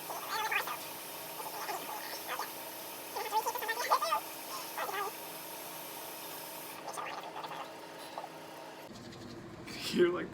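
A makeup brush is scrubbed clean against a surface, giving faint, close, scratchy bursts of rubbing that come in irregular strokes over a quiet background.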